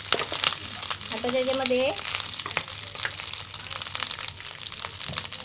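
Curry leaves crackle and sizzle in hot oil for a Marathi lemon egg curry, a close, steady frying hiss while someone speaks briefly over it.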